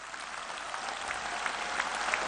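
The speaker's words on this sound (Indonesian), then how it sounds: "Saya minta aplaus yang sebesar-besarnya." Audience at the NasDem party congress applauding steadily, a dense wash of clapping that holds at an even level for a couple of seconds with no voices over it.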